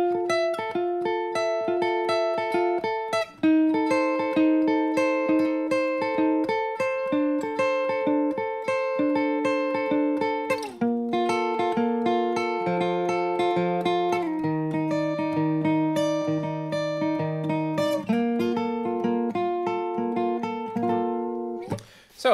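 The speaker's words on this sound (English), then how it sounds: "it's the acoustic guitar part, and it's going to sound like this" Acoustic guitar plays a song in 6/8 time, a steady run of picked and strummed chords with ringing sustained notes that shift through several chord changes, played solo and close with no voices.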